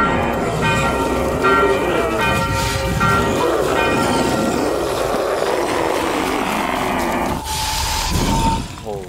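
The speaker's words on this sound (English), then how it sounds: "Why is the bell going off when this is happening?" A bell rings out inside a horror video game amid a dense, loud soundscape of mechanical clatter and tonal chimes, with frightened voices talking over much of it before a steady tone near the end.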